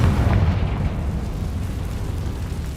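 Bombarda blast spell in the Hogwarts Legacy video game, a loud, dense rumbling explosion that fills the whole moment with sustained low booming.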